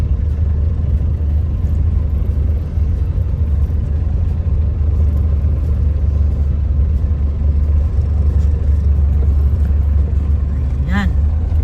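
Steady road traffic near a busy city mall and public market, a loud continuous low rumble of car engines passing close by, with a brief horn-like tone near the end.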